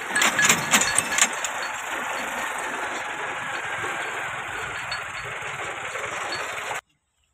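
A 2006 Massey Ferguson MF 385 tractor engine runs at a steady idle close by, a constant mid-pitched drone with a brief rougher burst at the start before cutting off abruptly.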